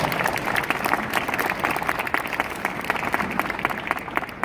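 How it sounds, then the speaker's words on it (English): A crowd at a corporate diversity event claps for itself, dense, lively applause with distinct individual claps standing out, moderately loud and uninterrupted by talk. "Let's give ourselves a round of applause"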